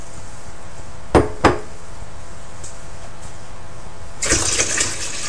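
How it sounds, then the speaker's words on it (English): Water and wheat berries swirl inside a glass jar: two quick sloshes early on, then a longer, louder swish near the end, close and with no one talking. "and swirl it around, that way I get all the wheat juice out."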